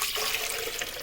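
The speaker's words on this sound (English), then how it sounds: "I'm gonna pour this into my" Water at 24 degrees Celsius is poured into a heater until the element is covered, a brief, close, splashy gush that runs for about a second.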